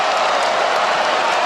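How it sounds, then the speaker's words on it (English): A steady, dense roar of crowd noise from an NBA 2K25 basketball game, continuous and fairly loud throughout with no individual voices standing out. "You hear the crowd."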